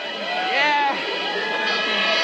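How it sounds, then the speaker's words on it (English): Spectators at an Olympic ski race at the 1998 Nagano Winter Games cheer and whoop in a loud, sustained wave of many voices, with a commentator talking over the crowd. "The crowd is delighted."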